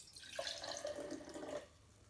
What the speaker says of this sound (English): Then I'm going to pour some water in here.